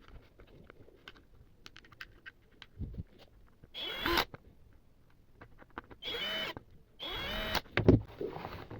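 Plastic base of an electric kettle being snapped and screwed back together after repair, with a few short, sharp ratcheting and scraping bursts close up between quiet pauses, with no speech.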